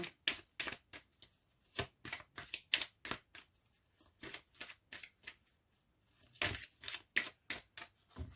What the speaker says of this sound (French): on va les tirer 9 cartes